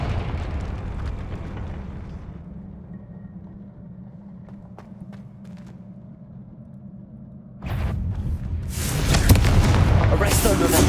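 A Confringo spell explosion in Hogwarts Legacy bursts out loud and broad near the end, after quieter game ambience with a low rumbling boom bed.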